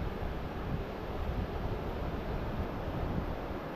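Sea waves breaking on the beach at Mandarmani, heard as a steady, dense roar of surf mixed with wind, continuous and fairly close with no talk.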